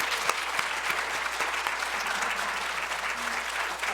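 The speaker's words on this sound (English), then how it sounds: "Let's give them a round of applause." Steady audience applause at a civic luncheon event with county and city officials, dense and continuous clapping from a large crowd filling the whole stretch without talk.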